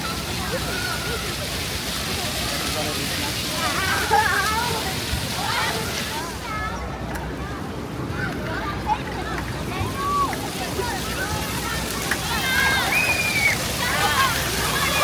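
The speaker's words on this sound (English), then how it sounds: "they have this big splash pool for people to walk through" Water splashes and sloshes continuously in a big walk-through splash pool in a Philadelphia city park, steady and fairly loud throughout, with people talking over it.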